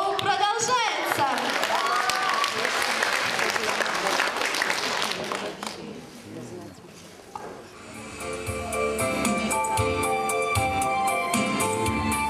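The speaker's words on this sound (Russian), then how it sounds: "Ваши аплодисменты!" An audience at a children's pageant applauds loudly, a dense wash of clapping that fades after several seconds, and music takes over.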